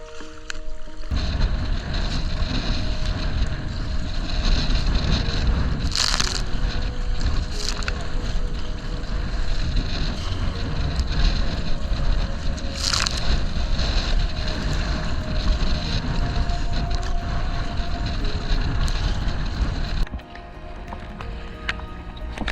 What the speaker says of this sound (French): Le soleil disparaît La température chute et le vent s'enhardit. La tempête éclate.